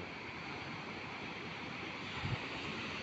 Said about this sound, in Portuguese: Surf hoje tá batendo. Tem as ondas boas.